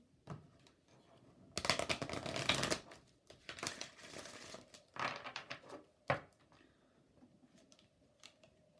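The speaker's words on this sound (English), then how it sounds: "let's pull 3 oracle cards to validate this reading" Oracle cards being shuffled by hand during a tarot-style reading, heard as several close, crisp bursts of riffling and shuffling with short pauses between them, and no talking.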